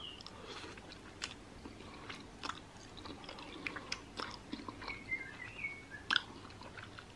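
Close, quiet chewing of black bean noodles (jajangmyeon) and rice cakes, with soft wet bites and occasional crunchy clicks in an irregular rhythm, plus faint bird chirps in the background.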